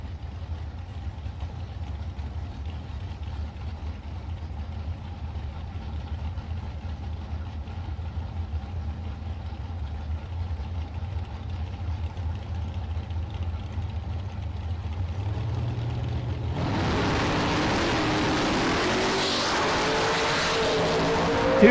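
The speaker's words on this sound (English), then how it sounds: "Dustin Long in the Roadster, right-hand side, dialed in a 5:05. Arnie O, left lane in the Pontiac" Drag race launch between a Roadster and a Pontiac at a bracket racing event: a steady engine drone builds, then a loud, full-bodied burst of engine roar and tire noise erupts near the end, with no talk.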